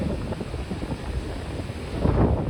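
Sea waves wash in along Ubharat beach, a steady broadband rush with wind buffeting the microphone, swelling louder near the end as a wave surges closer.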